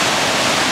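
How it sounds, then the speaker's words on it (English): Collar Forks waterfall plunges thirty feet into the Bad River Gorge, a loud, steady, broadband rush of falling water heard close and alone. "Collar Forks plunges 30 feet below you into the Bad River Gorge"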